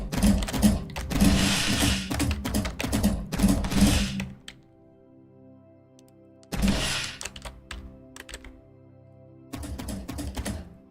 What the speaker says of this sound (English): That was the vortex cannon, had to be.